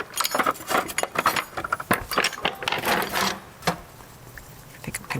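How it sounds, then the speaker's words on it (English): A whisk working plant-based gravy with nutritional yeast and salt, heard as rapid, close metallic clinking and rattling against the bowl, continuous with uneven bursts and no voices. "And then whisk that up."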